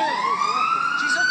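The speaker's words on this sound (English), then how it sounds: "at that point, the siren goes off" A wailing siren rises steadily in pitch, loud and close, with a faint voice briefly underneath.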